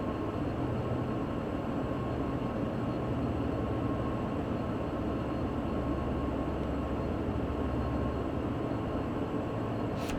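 A freight train runs steadily under throttle on the Sherman Hill route between Cheyenne and Laramie in Train Sim World 2, a constant loud rumble and drone of engine and wheels with no breaks, no talking.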